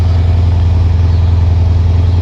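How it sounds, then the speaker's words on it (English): A Lexus RC-F Track Edition with titanium exhaust idles, a steady, deep, low rumble close by and fairly loud, with an even, subdued burble and no revving. "It's got a titanium exhaust, but that is not overly raucous."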